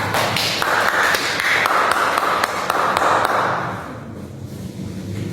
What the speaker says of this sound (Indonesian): Tepuk tangan kepada Sarifah.